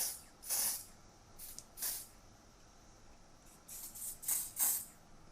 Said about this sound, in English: Try to spray on a little bit.